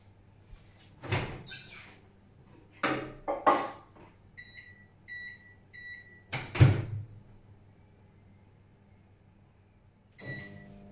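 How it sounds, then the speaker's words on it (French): A microwave oven melting chocolate and butter: door clunks and handling noises, then a row of bright beeps, a loud thud and a faint hum in a quiet kitchen. "le petit bruit ça sera le micro-ondes"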